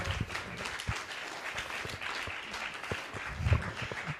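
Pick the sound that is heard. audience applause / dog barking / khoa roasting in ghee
audience applause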